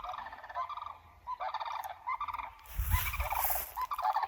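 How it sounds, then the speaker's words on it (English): Cranes calling at night in Ocala National Forest, rattling bugling calls in repeated bursts from a distance, with a louder rustling or wind-like noise surging partway through. "We've got some cranes or something going off."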